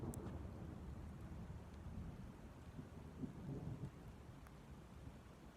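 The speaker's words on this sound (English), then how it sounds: "the rain's starting to come down a little harder" Steady rain patters throughout with low rumbling thunder rolling underneath, a continuous dense wash of sound with no voices.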